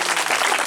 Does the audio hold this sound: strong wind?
no